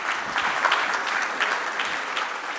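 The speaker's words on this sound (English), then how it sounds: "can we give him another round of applause?" An audience at a public sector innovation conference claps steadily, a dense, even patter of many hands with no talking over it.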